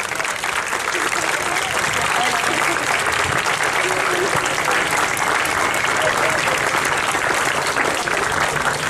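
Loud, sustained applause from a crowd of schoolchildren and guests welcomes the UGEL education director at a school Olympic games swearing-in ceremony in Negritos, dense clapping throughout.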